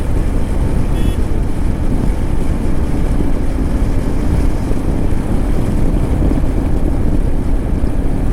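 Heavy, continuous wind roar buffets the microphone while riding a motorbike along the Ajmer–Delhi highway, a dense low rumble with no talk throughout.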